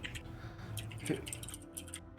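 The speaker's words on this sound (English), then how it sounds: "Who's typing? That's loud as." Loud computer keyboard typing picked up close by a microphone during an online Dungeons & Dragons session: quick, irregular clacking keystrokes in a steady stream with faint voices underneath.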